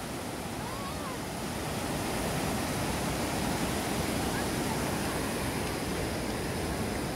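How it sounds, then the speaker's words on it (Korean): Roaring river water rushing through a rafting rapids stretch of the Gyeongho River after Typhoon Lingling, a loud, steady broadband wash that holds constant throughout with no speech over it. "물소리, 장엄한 물소리."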